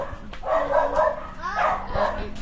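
A dog gives a few yelping barks and whines close by, with people talking over it.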